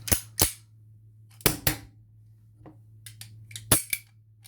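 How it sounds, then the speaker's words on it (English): A PPK-style blank pistol made by Bruni is handled, giving sharp metallic clacks of the slide being cocked and the magazine dropping free, several crisp close transients separated by quiet pauses over a low steady hum. "If I cock the gun"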